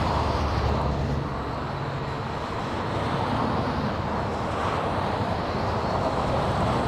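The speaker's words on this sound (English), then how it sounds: "we just had Air Force One, the departure in front of us" Distant rumble of Air Force One departing LAX airport, a steady broadband roar holding at moderate loudness for the whole stretch, with no voices over it.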